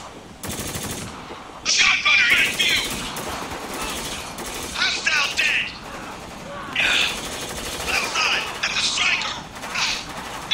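Heavy automatic gunfire in the video game Spec Ops: The Line: loud machine-gun bursts and repeated shots arrive in clusters, some near and sharp, over steady background combat noise.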